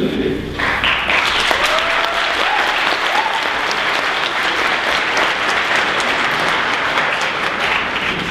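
An audience at a Parti Québécois leadership debate breaks into loud, steady applause that carries on without pause from start to finish.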